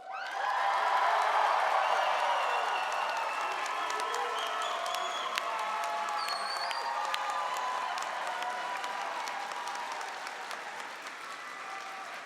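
Graduates at the SAIT Spring 2026 convocation burst into loud, sustained applause with whoops and cheers, a dense crowd roar that swells early and slowly tapers off over about twelve seconds.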